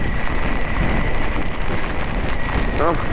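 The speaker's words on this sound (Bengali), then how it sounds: "এত জোরে বৃষ্টি হচ্ছে তার সঙ্গে হাওয়া এত জোরে" Strong wind and heavy rain batter a motorcycle rider on a monsoon highway ride, a loud, constant rushing roar of wind buffeting the microphone, with a brief tonal whine near the end.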